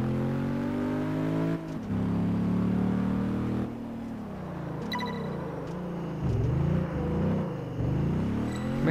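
A car engine in the racing game Test Drive Unlimited 2 drifting, with a steady loud droning rev that rises, dips and swells again as the throttle shifts, without pause.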